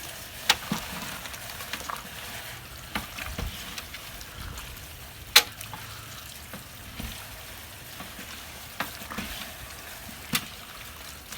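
Shrimp boil with Sha-Bang sauce being stirred in a large pot, soft sloshing and bubbling under a few sharp knocks of the utensil against the pot.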